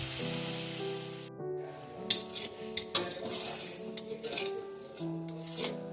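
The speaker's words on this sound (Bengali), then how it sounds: "মশলাটা ভালো করে ভেজে নিচ্ছি" Spice paste being stirred and fried in a pan on a high gas flame for sorshe dim, metal spatula scraping and clinking against the pan over a soft steady sizzle, with a sustained tonal hum and no talk.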